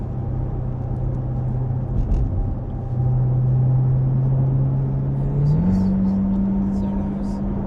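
Corvette C8 engine giving a steady low drone that rises in pitch as the car accelerates, heard from inside the cabin with a faint murmur of talk.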